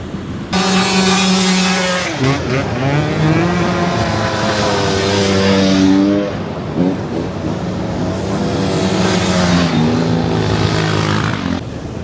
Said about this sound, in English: here comes some motorbike riders